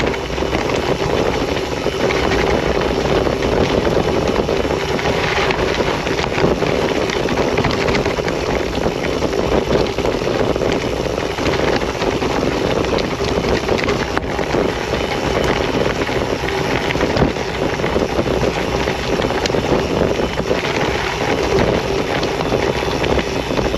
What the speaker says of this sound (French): N'oublie pas qu'il y a le drone.